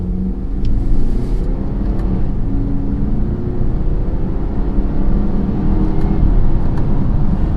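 A 2018 BMW X3 30i with its 2-liter four-cylinder accelerates hard, the engine note loud and steady, rising and dropping through quick gear shifts with no talk over it.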